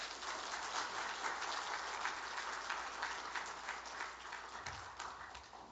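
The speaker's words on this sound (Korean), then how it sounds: "우리 박수로 환영하겠습니다" Congregation applauding to welcome a visiting pastor at a Korean church's afternoon worship service, a steady, fairly faint wash of clapping from a crowd that holds level throughout.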